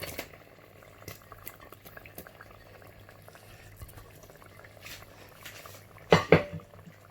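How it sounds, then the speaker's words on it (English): Sliced onions fry in vegetable oil for smoky party jollof rice, giving a soft continuous sizzle and bubble, with a sharp clatter of a pot or utensil near the end. "after I've added the oil, I'll add the sliced onions"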